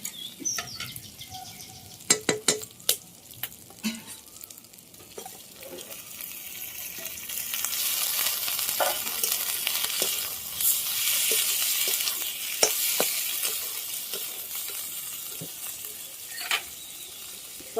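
Spiced masala fries in a pan for chicken and jackfruit, with a few sharp clinks and stirring taps at first. A dense, hissing sizzle then swells and holds close and steady.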